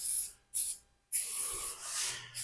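SEM Trim Black aerosol coating sprayed from a can in a medium coat, heard as three close, loud hissing bursts with brief silent gaps between them, the last burst held longest.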